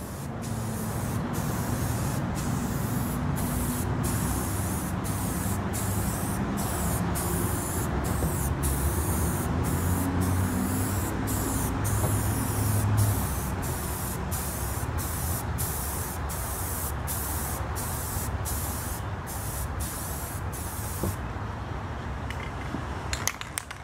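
Spray gun laying down a tan camouflage base coat, a loud continuous hiss of paint spray that runs steadily throughout, with brief regular clicks over the top and a short fade at the end.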